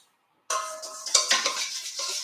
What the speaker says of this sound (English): All right, we're whisking.